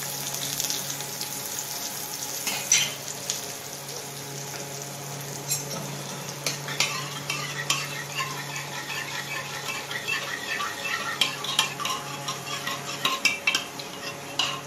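Cumin, mustard seeds, asafoetida and fresh coriander tempered in hot oil for dal, a steady crackle and hiss with scattered metallic clinks of a spoon against the pan, kitchen noise continuing throughout, no talk.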